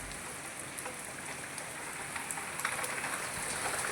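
A torrential rainstorm with lightning in Jamnagar pours down in a constant wash of close, heavy drops striking hard surfaces, swelling slightly louder toward the end, with no talking.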